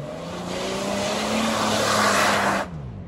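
An all-wheel-drive Mitsubishi 4x4 with a diesel engine, still smoking, revs hard and accelerates for a jump; the engine note climbs steadily, loud and close, before cutting off sharply near the end.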